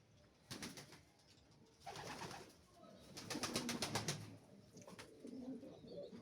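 Pigeons coo repeatedly in several bursts close by, the calls overlapping with rustling and wing movement, loud and clear with no talk over them.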